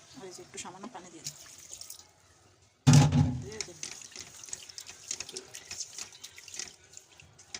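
Water poured from a tap into a pot for fish curry with tomato and flat beans, a loud close splash and trickle after a brief pause, running on amid kitchen clatter.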